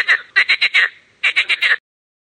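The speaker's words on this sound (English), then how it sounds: "Frog." A frog croaks in two quick bursts of rapid, raspy pulses, close and clear against silence.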